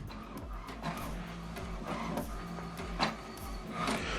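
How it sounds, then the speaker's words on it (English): An HP inkjet printer printing an alignment page makes a quiet, rhythmic mechanical chatter of repeated carriage passes and clicks, with a brief louder clunk midway and steady motor hum beneath. "So what it's doing now, what is printing is alignment."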